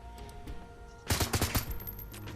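Suppressive gunfire in the Shadowrun: Hong Kong video game: a tight burst of five or six rapid shots at mid-loudness, then a trailing ringing tail over faint background game music.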